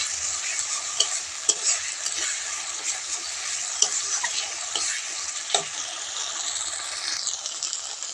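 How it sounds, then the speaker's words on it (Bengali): Masala sautéed with dry chili powder in a pan for potato dum, a steady close sizzle with repeated scraping stir strokes and small clatters of the spoon against the pan, no talking. "শুকনো লঙ্কার গুঁড়োটা দিয়ে মশলাটা আমি ভালো করে কষিয়ে নেব"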